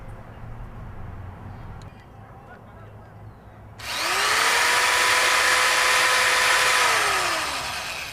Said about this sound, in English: I'm going to plug the drill in and see if we've got power.